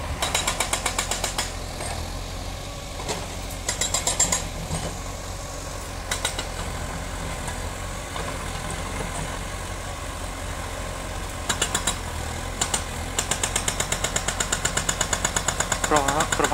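Drilling rigs work at a stadium construction site for AEK, a continuous engine drone with repeated rattling, hammering bursts, fairly close, while someone talks over it.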